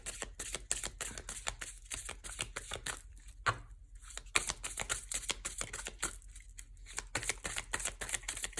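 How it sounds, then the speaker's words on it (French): Oracle cards are shuffled and drawn by hand, a rapid crisp flutter of riffling cards with short pauses between bursts, close and clear. "Donc après on va prendre 3 cartes, ouais 3 peut-être, l'oracle bleu."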